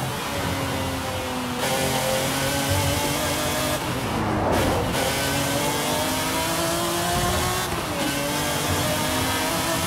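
A 1997 McLaren F1 GT with a V12 engine in Forza Horizon 5 revs and accelerates steadily and loudly, its tone rising through the gears with brief dips at shifts, alone without talk.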